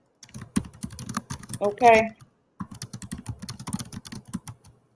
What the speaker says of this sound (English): Oh, I was typing.